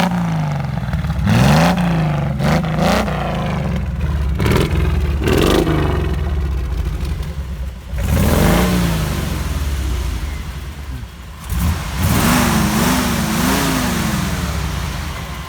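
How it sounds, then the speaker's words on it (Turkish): Revving exhaust of a Jeep CJ5 with a high-output 4.2-litre engine, loud and close, with repeated throttle blips rising and falling, several sharp surges and a sustained rumbling idle between them, with no talking. "Bir egzoz dinlet bize bakayım az bir şey."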